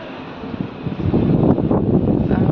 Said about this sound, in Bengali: এত সুন্দর হাওয়া দিচ্ছে